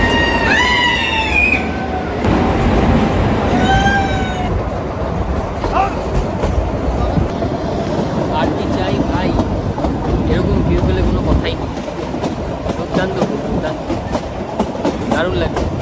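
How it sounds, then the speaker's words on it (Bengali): The Kalka–Shimla toy train runs along a winding mountain track with a steady close rumble and clickety-clack, brief high squeals from the wheels on curves, and people talking. "পাহাড়ের এই আঁকা বাঁকা পথ ধরে আমাদের টয় ট্রেন ছুটে চলেছে"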